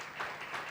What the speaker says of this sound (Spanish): para los cuales les voy a pedir un aplauso